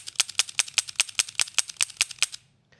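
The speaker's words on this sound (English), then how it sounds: "You can go ahead and flip the gun over, and you're going to dry fire it now 6 to 12 times" A medium frame revolver is dry fired about a dozen times in quick succession, each hammer fall a sharp metallic click in a steady rapid rhythm, close and distinct, ending in silence, with no talking.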